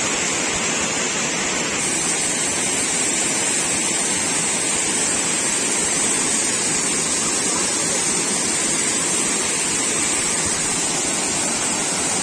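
Sunnapugedda waterfall in the Srikakulam agency hills, a loud continuous roar of falling water that stays dense and unbroken throughout, heard close with no voices.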